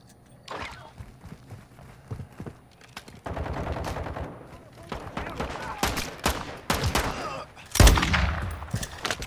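Gunfire in Call of Duty's DMZ mode: scattered single shots, then dense automatic bursts and overlapping volleys, with one sharp loud blast near the end and footsteps among the firing.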